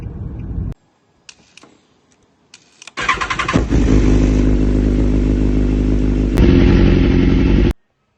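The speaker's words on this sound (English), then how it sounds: "So gonna grab the bike out, jump on the bike, go do some bits" A motorbike engine cranks, catches and settles into a loud, steady idle close by, then revs up and pulls away before cutting off; a few clatters come before the start.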